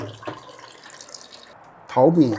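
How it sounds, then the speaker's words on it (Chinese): Rice being rinsed in a pot of water in a kitchen. A short, loud burst of splashing and pouring water comes near the end, after quieter handling sounds. "现在我们要淘米，把这个米清洗一下"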